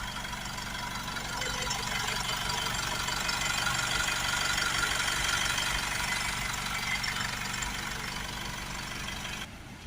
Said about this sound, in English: while the engine's running